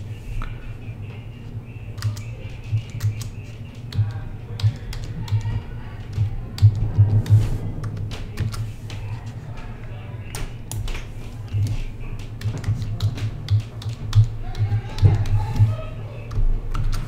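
Typing on a computer keyboard, quick runs of close clicky keystrokes in irregular bursts over a low steady hum.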